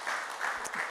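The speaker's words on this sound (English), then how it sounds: "Give her another hand of applause," Audience applause at a community parenting session, a steady wash of many hands clapping close by and filling the whole brief moment without pause.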